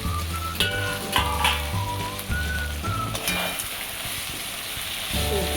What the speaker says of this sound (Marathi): कोबीची भाजी परतून घ्यायची आहे